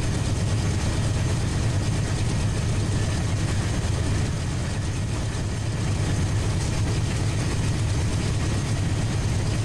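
A 12,000-ton freight coal train runs in Run 8 Train Simulator, giving a steady, loud low engine rumble and drone that holds without a break throughout.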